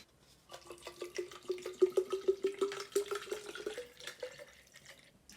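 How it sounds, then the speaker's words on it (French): Water poured into an AIR UP drinking bottle, a steady liquid stream with a rising, gurgling fill tone over about five seconds, close and moderately loud with no talking. "On va mettre de l'eau dans ça."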